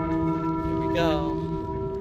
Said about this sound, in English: Let's ring this bell one more time.